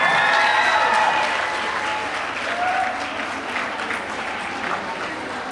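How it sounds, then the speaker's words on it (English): Audience at a primary school graduation ceremony clapping in a dense, sustained round of applause that fades slightly, with faint voices mixed in. "let's give a round of applause"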